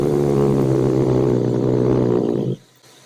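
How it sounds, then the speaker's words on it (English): A cat's pure growl, very low and level, rumbles steadily and loudly for about two and a half seconds before cutting off abruptly. "And this is a pure growl,"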